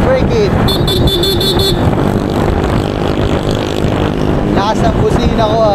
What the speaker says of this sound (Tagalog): Lakas ng busina ko ah.